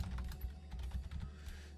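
Typing on a computer keyboard, a quick run of soft keystrokes close by, under a steady low hum.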